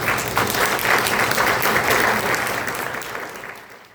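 Sustained audience applause fills a lecture hall at a museum talk on the Mesoamerican ball game in western Mexico, dense and steady clapping from many hands that gradually fades toward the end.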